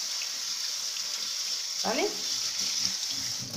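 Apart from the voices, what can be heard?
tap water rinsing artichokes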